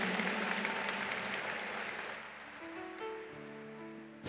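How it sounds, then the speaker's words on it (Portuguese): A church congregation applauds the children at a Catholic Mass, with steady, dense clapping that fills the room and then thins out. A few sustained tones, probably from an organ or keyboard, come in toward the end. "Vamos aplaudir as crianças."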